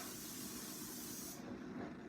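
A continuous aerosol spray of black hair root color hisses close by, then cuts off, leaving a quieter low background hum.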